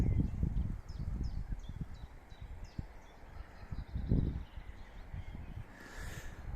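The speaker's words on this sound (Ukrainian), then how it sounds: "але напевно краще чути спів пташечок." Small birds in the mountains above a town give a quick, regular series of faint, high chirps, set against low rustling and wind-like rumble close by.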